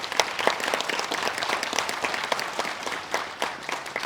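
A crowd claps steadily and warmly at a memorial ceremony for President Syngman Rhee at Hyeonchunggwan hall, welcoming a guest speaker; dense, continuous applause fills the room with no voices over it.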